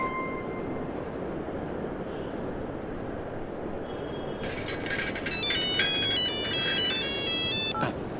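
A phone ringtone starts partway through as someone calls a guru, a repeating electronic melody that sounds over a steady background rumble.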